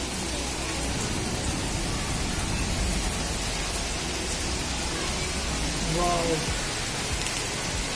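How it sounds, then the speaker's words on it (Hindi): Heavy rain pours steadily outside a balcony at a housing society, a dense continuous hiss throughout, with one person giving a brief exclamation near the end. "अगर आप देख सकते हैं इतनी अच्छी बारिश हो रही है ना"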